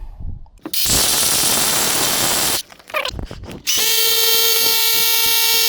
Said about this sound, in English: it's getting a bit hard with the hammer drill